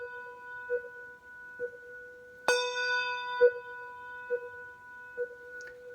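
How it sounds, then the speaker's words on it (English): A handbell rings out with a sharp strike and is bounced on a table, its bright tone sustaining and echoing, while soft knocks and small ringing pulses come before and after. "we ring and then we bounce it on the table and it makes an echo"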